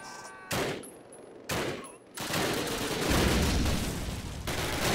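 Gunfire bursts in a Call of Duty match: two sharp volleys about a second apart, then a sustained, dense stretch of rapid shooting and battle noise, loud and close.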